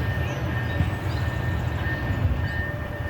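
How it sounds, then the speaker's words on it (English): A passing train rumbles through a San Diego park, a continuous loud low rolling noise with a faint steady tonal whine above it, heard up close throughout. "We'll have the train,"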